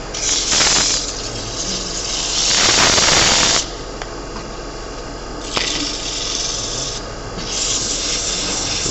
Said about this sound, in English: Alright, so I'm ready to do sanding.